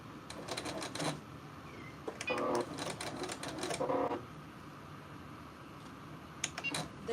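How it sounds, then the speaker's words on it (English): A sewing machine stitching fabric strips onto quilt batting in a craft room, short mechanical bursts of whirring stitching separated by pauses, near and moderately quiet. "So let's sew the blue together."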